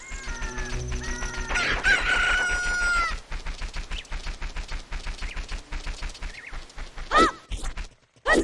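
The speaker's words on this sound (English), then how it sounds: "It was like right before the rooster crowed." In The Legend of Zelda: Ocarina of Time on N64, a rooster gives a loud cock-a-doodle-doo near the start, followed by rapid rhythmic game effects and a couple of later squawks.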